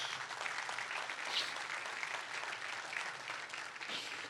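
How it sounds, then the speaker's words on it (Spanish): A church congregation claps loudly and continuously in a steady roar of applause that fills the room for several seconds, with no voice standing out. "Denle un fuerte aplauso a Dios."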